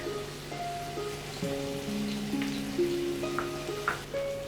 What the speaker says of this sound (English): 3 tablespoons of oil into the pan. Adding 1 chopped onion, some garlic.